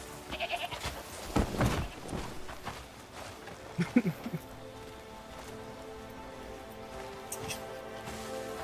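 A goat in the video game Crimson Desert bleats a few times, short nasal cries standing out over a steady rain-like ambient wash, with occasional faint clatter in the background.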